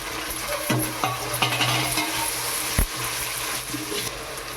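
Tomatoes added to onions and ginger frying in a pot for chicken biryani, a moderate sizzle under repeated stirring and scraping knocks, close by.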